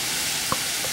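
Green pepper, mushroom and ginger going into a rice stir fry, heard as a steady hiss of sizzling with a single brief clack of a utensil midway, close and alone.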